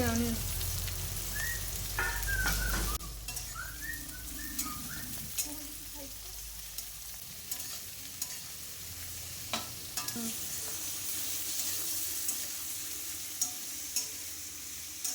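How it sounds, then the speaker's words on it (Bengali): Chopped onions fry in a pan for mutton curry, with a soft, steady sizzle broken by occasional taps and scrapes of stirring, fairly quiet and close. "পেঁয়াজটা প্রায় ভাজা হয়ে গেছে"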